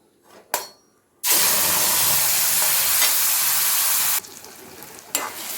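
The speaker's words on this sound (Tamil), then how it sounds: "இப்போ இதே நெய்யில் நம்ம அரைச்சி வச்சுருக்க பப்பாளி பழ பேஸ்ட்டை சேர்த்துக்கிறோம்." Papaya paste hits hot ghee with a sudden loud sizzle that roars steadily for about three seconds, then drops to a softer crackle, with a couple of short clinks and hisses around it.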